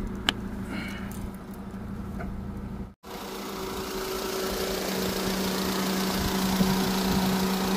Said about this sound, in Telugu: ఇంజన్ కండిషన్ అయితే ఇది. ఏసీ ఆన్లో ఉంది.